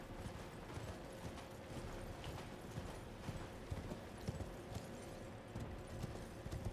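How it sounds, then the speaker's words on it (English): Horse hooves clip-clopping in Elden Ring, a steady rapid trot of soft thuds running throughout at a low, even level with no talk. "the horse is still going to make noise"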